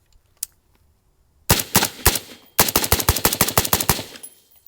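Rapid bursts of rifle fire from a PSA JAKL and a Bushmaster ACR, loud and close: one short string of shots, a brief pause, then a longer evenly spaced volley of sharp cracks.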